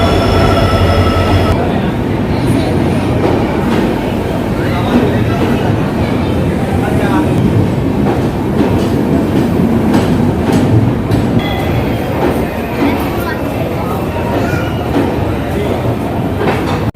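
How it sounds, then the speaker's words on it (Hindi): Kamrup Express passenger train on Indian Rail tracks, arriving about 45 minutes late at a station, rumbles loudly and steadily throughout with clattering wheels and occasional squeals, with faint voices underneath. "It's 8:15 finally the train has arrived."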